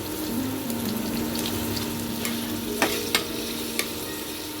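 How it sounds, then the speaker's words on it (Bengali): Onions fry in oil in a pan with a steady close sizzle, broken by a few sharp clicks and scrapes of stirring near the end; no voices. "পেঁয়াজটা আমি ভেজে নেব।"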